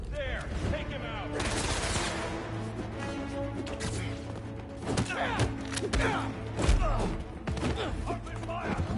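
Gunfire from a Spider-Man 2 video game firefight, dense bursts of shots and crashing impacts layered over a steady game score, with a voice talking over parts of the action.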